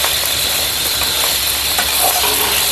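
Street-style chicken noodles fry in a hot pan, a steady dense sizzle and hiss with faint stirring scrapes, close and continuous with no talking.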